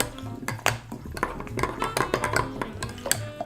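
Chia seeds being stirred into coconut milk in a bowl, with a spoon clinking and scraping against the dish in quick, irregular taps over a few seconds, close and moderately loud.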